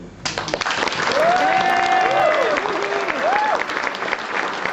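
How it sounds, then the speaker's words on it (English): Crowd at an election party in the Parkway, Dunmanway, giving a round of applause after a speech, dense clapping with whoops and whistles, loud and close, swelling then holding steady. "That's a good nice round of applause."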